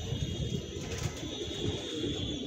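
Pigeons cooing in a home loft, a steady low murmur of overlapping coos at moderate distance with no talk, continuous through the short stretch.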